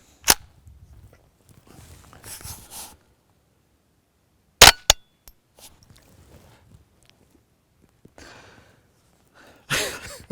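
A suppressed Ruger 10/22 Takedown fitted with a Gemtech suppressor fires CCI subsonic rounds, giving a few short, sharp, muted reports spaced several seconds apart, with quiet handling noise and faint rustle between the shots.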